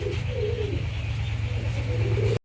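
A pair of white Lakka fantail pigeons coo close up in a continuous low rolling murmur, with soft repeated coos over a steady hum, ending abruptly.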